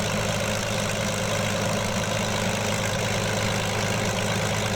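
A P-40B Tomahawk fighter's engine idles steadily just after starting, a loud, continuous low rumble with a rough, throbbing texture and no talk over it.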